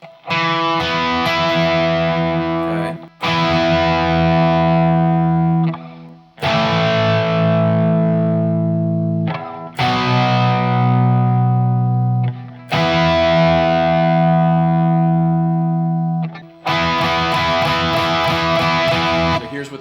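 Loud, distorted electric guitar power chords strummed and left ringing in long sustained blocks, each cut off briefly before the next, with no palm muting.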